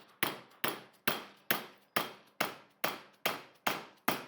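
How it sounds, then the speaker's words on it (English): A hammer taps a metal piece clamped in a vise, giving ten evenly spaced sharp knocks, each ringing briefly and fading before the next, loud and close with no talking. "Clamp down on your vise gently with a hammer."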